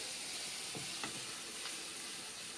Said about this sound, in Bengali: এইভাবে আমি এখন ভেজে নিচ্ছি পেঁয়াজ টমেটো